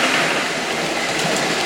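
A postwar Lionel 1656 toy train runs on its track, producing a steady, close, uniform rumbling whir with no distinct breaks throughout and no voices.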